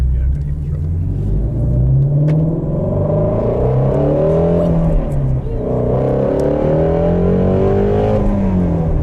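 A 2018 Shelby GT350 Mustang with a 5.2-liter V8 pulls hard, its engine climbing steadily through the revs with a loud, deep, throaty roar from inside the cabin, easing briefly midway before building again, with people talking over it.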